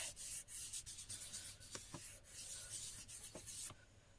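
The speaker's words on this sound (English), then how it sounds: "just using the finger just to rub that in" A finger rubs material into the surface of a model dragon figure, making soft, close scratchy rubbing strokes in an irregular rhythm, quiet and with no talking.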